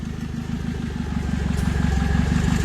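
A Jupiter MX motorcycle fitted with a Daihatsu Espass 1300 car engine, running with a loud, deep, rapid pulsing engine note close by that builds slightly in loudness.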